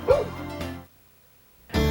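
A dog at a doggy daycare gives short yips and whimpers close by, two brief bursts followed by a silent gap before another loud burst at the end.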